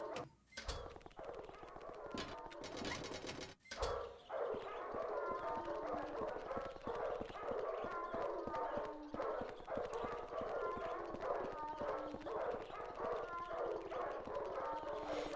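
Dogs bark and howl in Silent Hill 4, with rhythmic clip-clop-like thumps near the start, then a sustained chorus of yips and howls carrying on steadily at moderate volume.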